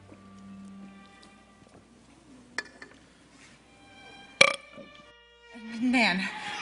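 A burp in a period drama set at a school for boys, a short, sharp burst standing out from a quiet room with faint background tones, followed by a louder, rougher sound near the end.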